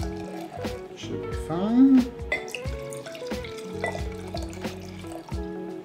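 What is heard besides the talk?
pouring rosé wine into glasses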